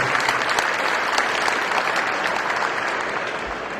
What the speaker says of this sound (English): Let's have a round of applause for Claudio, a familiar face here in Canada.